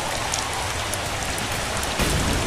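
Acid rain pours down in the survival video game Haunted Hell's Reach, a dense, steady hiss of falling drops with a slight surge near the end and no voices.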